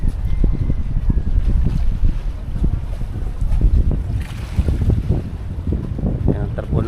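Strong wind roars and buffets the microphone out on open water by a boat, a dense steady rush with gusts that swell and ease, while someone talks briefly under it.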